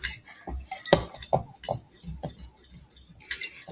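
Wire Dutch whisk mixing keto bagel dough in a bowl, producing a quick irregular series of close clinks and scrapes against the bowl, with short bursts and pauses between strokes.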